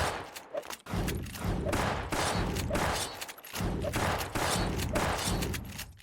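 Rapid gunfire in the game Gunz the Duel comes in dense, loud bursts of shots with brief gaps between them, repeating evenly and close up with no talk over it.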